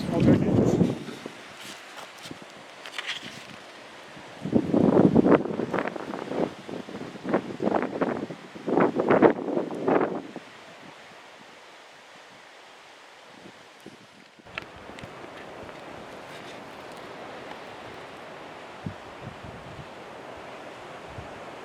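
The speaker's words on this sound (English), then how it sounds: "It's a very windy day." Gusty wind buffets outdoors in loud bursts with rustling, easing into a softer steady rush; a voice speaks briefly among the gusts.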